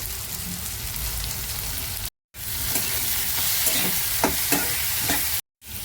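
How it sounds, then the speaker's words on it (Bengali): Potatoes and onions frying with chilli and cumin powder in a pan for a prawn curry produce a continuous close sizzle, with spatula scrapes and stirring taps and two brief silent cuts. "এটা ভালো মতন ভাজা হয়ে এটা কষেও গেছে"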